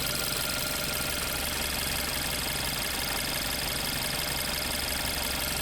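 A 2010 VW Golf petrol engine with an automatic gearbox and a failed alternator idles steadily and close by. The hum is constant with a light mechanical knock and no voices.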